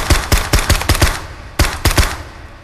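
A rifle fitted with a suppressor fires rapid muffled cracks on a range, first a quick run of six shots, then a short pause and three more, each sharp and close.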